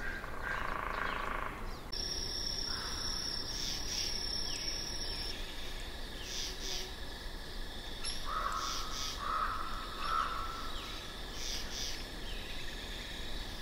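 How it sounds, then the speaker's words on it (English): Nighttime forest ambience dominated by a dense, steady chorus of crickets and insects, with several crows cawing in short bursts partway through; no clear wolf howls stand out. "We've got the wolves howling in the background. There's a lot of crows."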